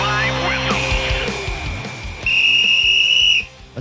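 A sharp referee-style whistle blast for a football intro, sounding loud and sustained for about a second with a rising shrill tone, over a busy music bed with a voice underneath.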